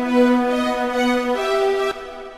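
A simple synthesized cello melody from a Nexus preset in FL Studio, a few sustained bowed-style notes rising in pitch, heard clearly with nothing else playing and cut off abruptly near the end.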